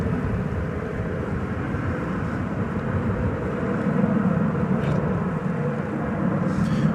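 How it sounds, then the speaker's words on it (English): A Frontier airliner arriving from Denver at DFW Airport at night produces a steady, broad engine roar that swells slightly midway and holds at a moderate distance. "another Frontier flight coming in from Denver is this one, Flight 2632"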